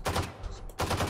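Automatic weapon in the Valorant video game firing in short bursts, two dense clusters of loud close shots separated by a brief gap, with no voice over them.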